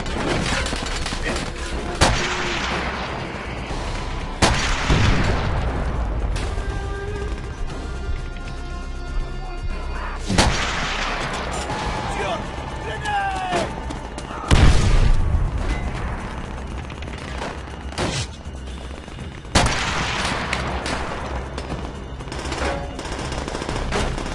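Call of Duty: World at War battle noise: rapid machine-gun bursts, sharp rifle cracks, crashes and heavy booming explosions arrive in irregular clusters, loud and close, with brief lulls between volleys.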